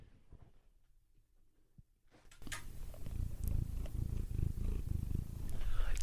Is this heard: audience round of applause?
no